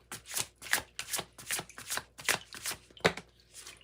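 A tarot spellcasting card deck being shuffled by hand in a series of quick riffling bursts, about a dozen crisp, close rustles at an even rhythm, with no talk.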